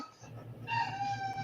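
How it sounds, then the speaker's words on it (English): A dog cries with high, whining whimpers, a thin cry that steps up into a louder sustained whine partway through. It is fairly quiet and close, heard alone with no talk. "That's a dog. I don't know why she's crying."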